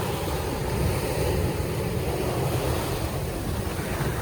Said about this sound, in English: You can see how the water's bashing up against it